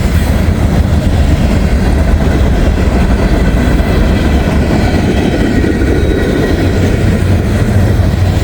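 A long freight train hauling many refrigerated reefer units rolls steadily past on the rail line, a continuous loud rumble of cars and wheels filling the whole stretch with no pause.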